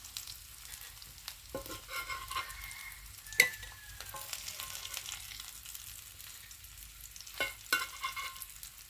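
Sardines coated in masala frying in a pan, a steady low sizzle with a few sharp clicks and scrapes from turning the fish.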